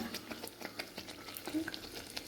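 Kerala nei appam frying in a little oil gives a quiet, close, continuous bubbling sizzle with tiny crackles throughout.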